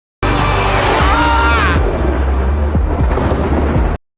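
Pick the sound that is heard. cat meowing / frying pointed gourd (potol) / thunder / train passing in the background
thunder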